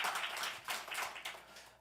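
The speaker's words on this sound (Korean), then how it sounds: "여러분, 은혜를 베풀어 주신 하나님께 감사의 영광의 박수를 올려드리겠습니다." A church congregation gives a burst of clapping in praise, soft, dense applause from many hands at a distance, pulsing unevenly over a couple of seconds.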